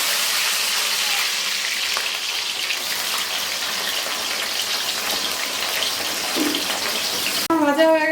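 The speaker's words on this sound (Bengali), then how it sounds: "প্রথমেই আমি ফুলকপিগুলো ভেজে নিচ্ছি।" Cauliflower pieces fry in hot oil for a singara filling, with a dense, even sizzle that carries on steadily, and a voice briefly cuts in at the very end.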